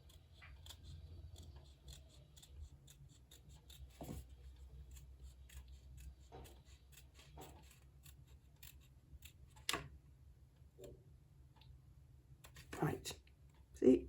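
Scissors trim a paper window card in a few sparse, quiet snips and clicks, separated by pauses, over a faint low background hum and soft talking.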